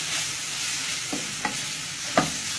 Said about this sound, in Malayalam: ഇത് നന്നായിട്ടൊന്ന് വഴറ്റിയെടുക്കാം